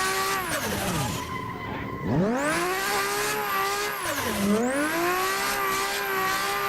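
A small car engine in Assetto Corsa revs hard with rising and falling pitch sweeps and tire squeal, loud and continuous as it slides through drifts.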